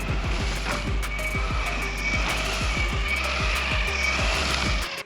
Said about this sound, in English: There's this audible and yet satisfying swish sound every time you carve back and forth.